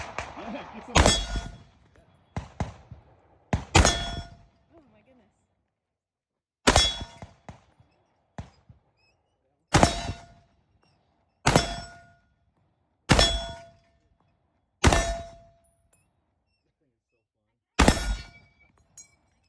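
An M1 Garand rifle is fired outdoors in a string of about ten sharp, loud shots at irregular intervals, each followed by a short echo and silence.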